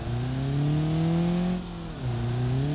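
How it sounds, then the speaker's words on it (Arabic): A car engine in the crash simulator BeamNG.drive runs steadily with a droning, humming tone that holds level, dips briefly and then returns, close and alone with no voices. "الحمد لله الموتور لسه شغال"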